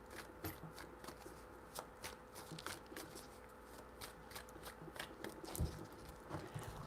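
Tarot cards are shuffled close by, their soft, quick riffling ticks repeating in short irregular bursts at low volume.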